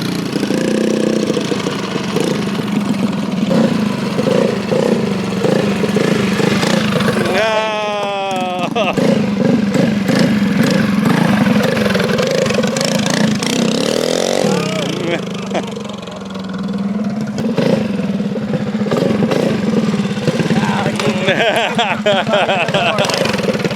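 A DIY minibike engine idles while warming up, a steady close putter running throughout beneath voices talking nearby.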